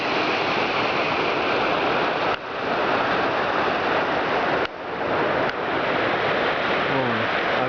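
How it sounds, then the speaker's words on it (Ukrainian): Dense, steady rushing water of a fast mountain river near Yaremche fills the scene at a constant loud level, with a faint voice briefly near the end. "Гарна, дуже живописна місцина. Річка шумить."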